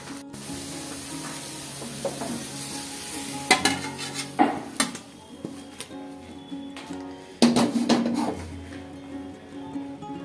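Food frying in a pan, a continuous close sizzle broken by several loud clatters and spatters from turning pieces, with no one talking.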